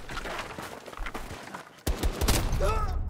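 Sharp sniper rifle shot in Battlefield 2042, a sudden loud crack midway through followed by ringing game sounds, with faint game noise before it.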